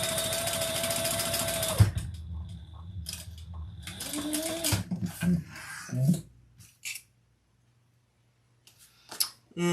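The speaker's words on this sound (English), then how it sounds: "And we'll top stitch that on." A sewing machine top stitching a fabric bag, running in a steady loud whir for nearly two seconds, then short stop-start bursts and clicks, fading to quiet with a few later handling sounds.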